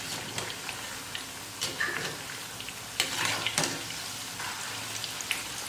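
Pakoda pieces fry in hot oil and are gently turned, giving a steady, quiet sizzle with soft clinks and stirring taps scattered throughout.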